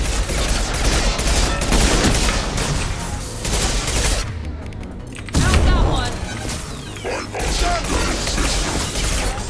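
Turret gunfire in the video game Mass Effect 2, loud sustained bursts of rapid automatic fire with mechanical clatter and impacts, briefly dropping off mid-clip before resuming, with a voice shouting over it.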